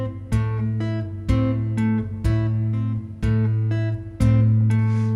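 Chapman Stick played as a two-hand independence exercise, bass notes and melody struck together in a steady repeating pattern of sharp tapped attacks with ringing sustain, about one strike per second, played solo with no talking.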